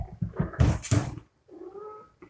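A pet garden cat vocalizes close by: a burst of several rough, yowling meows with low growly texture, then a softer, tonal drawn-out meow after a short pause, with no talk.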